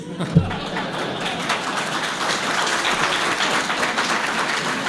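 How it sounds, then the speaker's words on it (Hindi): Crowd applause at a political gathering, a sharp tap at the start followed by building, continuous clapping that thickens and stays fairly loud through the rest. "तालियां इसी पर बजनी है सारी।"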